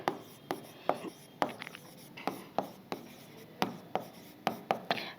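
Marker or chalk strokes on a board during a maths lesson, a series of short scratchy taps and rubs arriving in an uneven rhythm, close and fairly clear, with no voices.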